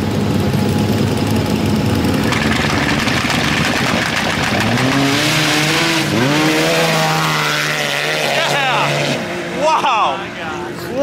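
A Polaris RZR side-by-side with anti-lag, racing with its front wheels lifted, gives a loud sustained engine roar that climbs in pitch as it accelerates past. People talk over the noise.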